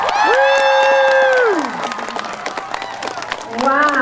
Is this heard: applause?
yes